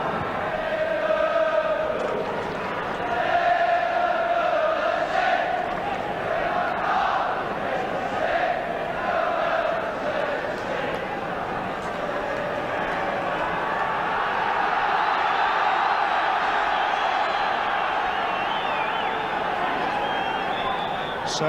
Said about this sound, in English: Another sizable crowd at Anfield, all the seats sold for this match well in advance.